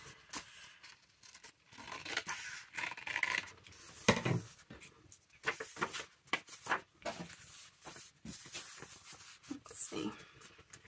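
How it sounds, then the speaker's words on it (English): Scissors cut through paper while making a ring-bound junk journal envelope page, producing irregular close snips and rustling crinkles, with a person talking over them. "I might have to just get that one with scissors."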